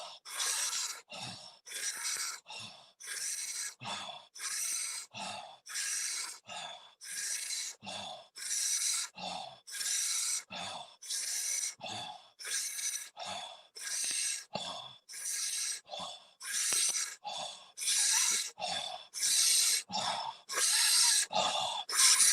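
Deep belly breathing is repeated in a steady cycle, each long, forceful breath loud and close, about two seconds apart across the whole stretch, with no talking.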